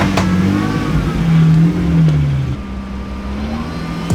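A drift car at full throttle on a dry track during a Viking Cup round, its engine revving loud and close with a steady roar that dips in pitch partway through.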